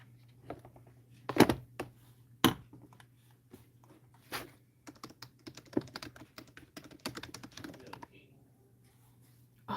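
Fingers type on a computer keyboard in uneven bursts of close, crisp keystrokes, some louder taps standing out, over a low steady hum in a quiet room.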